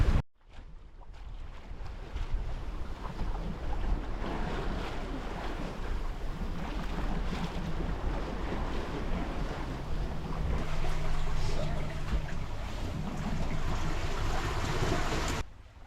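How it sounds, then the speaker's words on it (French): A sailboat runs on the Saint Lawrence in a fresh breeze, with a constant rush of wind across the microphone, water washing against the hull and waves swishing steadily throughout. "On fait de la belle voile sur le Saint-Laurent."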